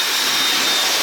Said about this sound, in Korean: 제가 쓰고 있는 헤어드라이기 이걸 이용해서 말릴 거예요